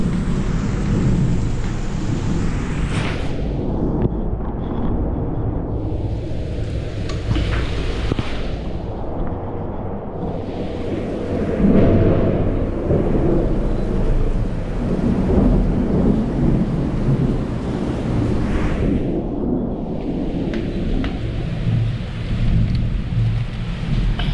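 Thunderstorm picked up by an outdoor CCTV camera: loud, steady heavy rain with rolling rumbles of thunder swelling and fading several times over the whole stretch, no voices.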